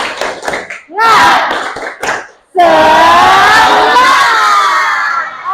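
Classroom group of students doing a rhythmic clap-and-shout spirit chant: a few quick claps, then loud voices shouting together in unison, sustained and close.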